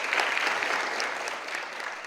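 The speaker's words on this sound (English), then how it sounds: "Let's welcome him with a big round of applause." Dense, steady audience applause welcoming a speaker at a lecture on high-performing life, a continuous wash of many hands clapping at even loudness with no voices on top.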